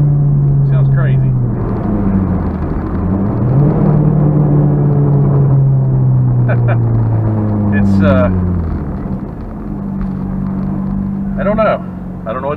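Chevrolet Cobalt SS engine revving and accelerating, its pitch rising and falling through several pulls while the tires spin, loud and close inside the car, with brief bursts of squealing.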